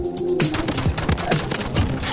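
Pistol and other gunfire in the Call of Duty Warzone video game, a run of sharp shots in an irregular rhythm over steady game ambience, some close and loud, others further off.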